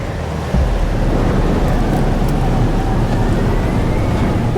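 A thunderstorm rages in the video game Life Is Strange: Double Exposure, a loud rushing roar of wind and rain that surges in abruptly and then holds as a dense, continuous wash.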